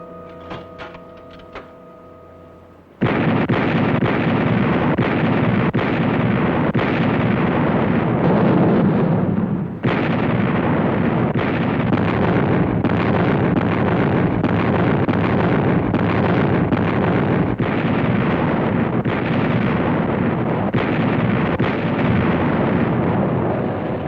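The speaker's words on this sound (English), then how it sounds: "The big guns of the American artillery signal the beginning of the 442nd Diversionary attack on the German Gothic Line" American artillery big guns firing to open the 442nd's diversionary attack on the German Gothic Line, loud booming blasts rolling one after another over heavy rumble and wind, starting abruptly after a short quieter stretch.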